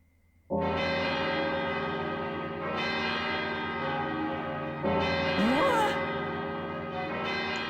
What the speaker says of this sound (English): Landseal's bell has tolled.